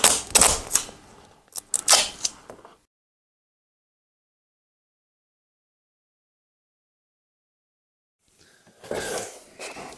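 Tape is ripped and pressed down onto a carpet template for winding stairs, producing close, crackly tearing bursts at the start, then a long silence before more rustling tape noise near the end.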